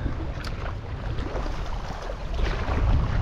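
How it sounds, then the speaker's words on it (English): Strong nor'easter wind gusts across open water while fishing from a boat, a steady, loud rushing roar with low buffeting on the microphone that swells toward the end. "Here comes that wind."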